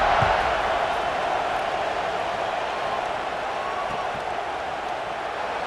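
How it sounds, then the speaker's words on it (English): A stadium crowd in EA Sports College Football 26 buzzes just after a score before a kickoff, a dense, steady roar of many voices filling the whole stretch at a constant level. "this crowd is buzzing after that last score"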